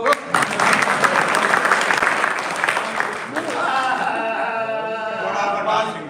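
Audience clapping at a live comedy and music show in New Zealand rises for a few seconds, then fades under a voice and tonal music-like sounds as the crowd settles.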